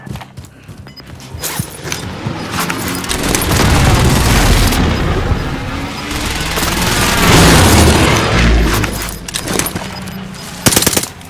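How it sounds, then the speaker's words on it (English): Precision airstrike explosions in Call of Duty: Warzone Vanguard Resurgence make a dense, continuous barrage of booms and rapid blasts. The rumble stays heavy and loud, swelling and easing, with sharper cracks near the end. "Enemy precision airstrike."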